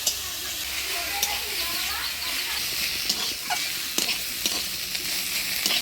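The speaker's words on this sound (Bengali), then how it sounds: "মূলা শাক ভাইজে নিলাম" Radish greens frying in a pan with light salt, a steady close sizzle broken by repeated stirring scrapes and clinks, with voices talking faintly over it.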